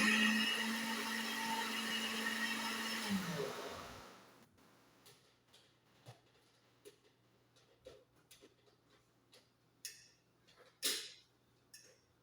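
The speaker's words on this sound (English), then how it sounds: "this blender is not as powerful as I thought" A blender whirs steadily as it mixes a detox smoothie of water and yogurt, then cuts out after about four seconds, leaving quiet clicks and light handling knocks.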